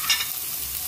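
Ground pork, the giniling for a pork picadillo, sizzles in a hot pan with onion, a short close burst of bright frying hiss with a quick stirring scrape at the start.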